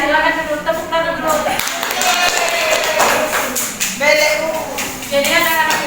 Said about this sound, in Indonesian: Silakan dulu tepuk tangan dulu.